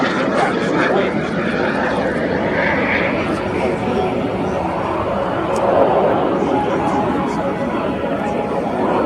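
Loud, continuous roar of Frecce Tricolori display jets flying overhead at an airshow, a broad sustained engine rush that holds steady throughout the display pass.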